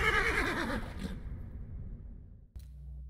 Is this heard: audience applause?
no